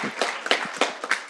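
Convocation audience clapping in a hall, a few sharp, uneven bursts of hand claps spaced through the moment, moderately loud and fairly close, with no voices over them.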